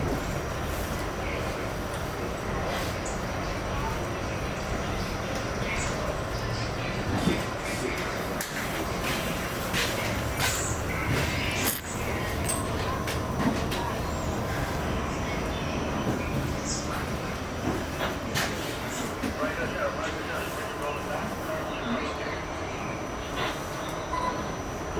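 R68 subway train riding the Franklin Avenue Shuttle toward Botanic Garden in a snowstorm, a steady loud rumble and rattle of the car rolling on track, with clanks and squeals, throughout.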